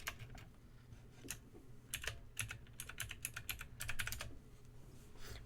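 Quick bursts of PC keyboard clicking while gaming, irregular clusters of keystrokes close by over a low steady hum, with no voices.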